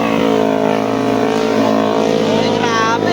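Yamaha R3, Sniper 1000cc and Raider 1000cc motorcycles race past on the Marilaque road. Their loud engines roar with a rising, revving whine near the end, and a voice talks over the noise.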